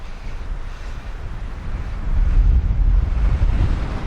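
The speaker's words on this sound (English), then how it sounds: "Beautiful and windy." Strong wind at Chimney Rocks Overlook in Michaux State Forest, Pennsylvania, buffets the microphone with a constant low roar and rumble, growing gustier halfway through; no voices.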